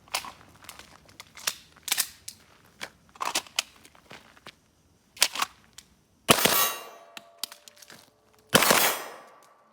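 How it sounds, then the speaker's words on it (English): A Taran Tactical John Wick 3 2011 pistol is handled with scattered metallic clicks and clanks, then fires two sharp, loud shots a couple of seconds apart. Each shot rings out and fades. "we'll do 2 rounds, lock back, reload, reshoot."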